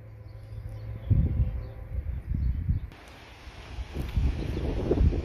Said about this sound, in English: for the wind being so windy.